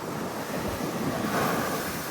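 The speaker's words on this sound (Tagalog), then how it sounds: "sobrang lakas lang ng hangin" Steady, roaring wind on a beach in Boracay buffets the microphone with a broad rushing noise, surf faintly underneath.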